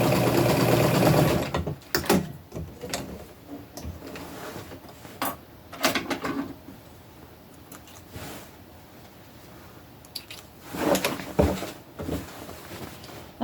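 Short start-and-stop bursts of a sewing machine running a seam on an upcycled tunic, broken by clunks and fabric handling sounds, fairly close and with no voice.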